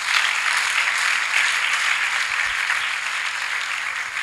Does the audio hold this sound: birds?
no